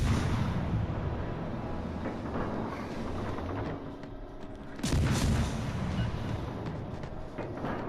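Armor-piercing shells fire from the cannons of a Tier II German warship in the naval combat game World of Warships: Legends. Heavy booming salvos roll over continuous battle noise, with a sharp loud burst near the end and no talking.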